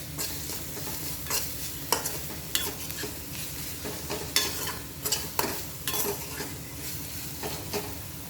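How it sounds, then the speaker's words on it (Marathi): Vegetables sautéing in a pan with turmeric and red chili powder, a steady close sizzle broken by repeated scraping stirs of a spoon against the pan. "थोडीशी हळद घालायची व अर्धा चमचा लाल तिखट घालायचा आहे हे सर्व छान परतवून घ्यायचं आहे"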